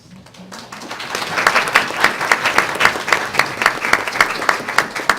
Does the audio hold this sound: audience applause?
yes